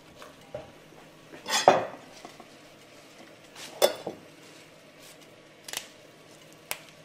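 A spoon scrapes and clinks against a bowl while carrots are stirred into a Christmas turkey stuffing mixture, giving a few separate knocks and scrapes with quiet pauses between them, close and moderately loud, with no talking.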